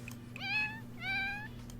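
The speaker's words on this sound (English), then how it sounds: "I feel like she definitely has a higher-pitched meow" Two bright, high-pitched meows from a cat in The Sims 4 Cats & Dogs game, each rising then falling, heard close and clear with a low background hum.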